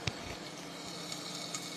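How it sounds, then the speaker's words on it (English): Prawn stir fry sizzling steadily in a pan, a continuous bright crackle with a few sharper pops, close and moderately quiet, with no voices. "So we've got that frying beautifully."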